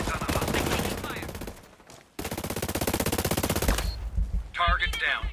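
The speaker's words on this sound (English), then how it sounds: "I hear gunfire." Rapid automatic gunfire in the tactical shooter Ghost Recon Breakpoint, loud sustained bursts broken by a brief pause, with game sounds trailing off at the end.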